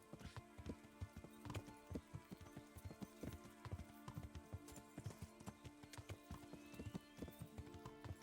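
Horse hooves clip-clop in a steady, brisk rhythm with a whinny in the medieval game Kingdom Come: Deliverance, heard fairly close over a soft ambient bed with no talking.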